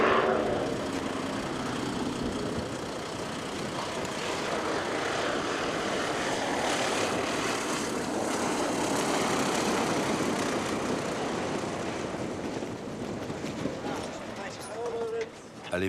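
Propeller airplane engine running steadily at a small airstrip on remote Fair Isle, a broad continuous drone that holds level throughout and stays fairly close, with voices talking underneath it.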